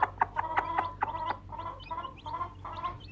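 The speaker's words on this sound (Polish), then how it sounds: "Sprytna kura." A farm hen clucks nearby on a hot summer day. A quick run of sharp clucks turns into longer, drawn-out, throaty calls at a steady pace, and no one speaks.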